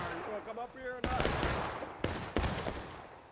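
Gunfire in a multiplayer shooter game, loud bursts of rapid shots cracking in three clusters with echoing tails, after a brief stretch of talking at the start.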